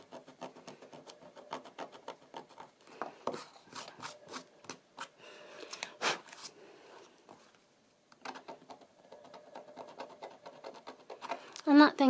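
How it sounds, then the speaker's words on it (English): Scissor blades scraping glitter off a card treat box, a dry papery scratching in quick bursts, close and fairly quiet, with brief pauses between strokes. "I'm just going to scratch away some of this glitter using this pair of scissors"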